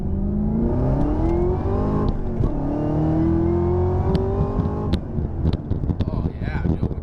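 A Chevrolet Camaro ZL1 1LE engine revs hard and close, its note rising and falling in repeated loud blips that run throughout.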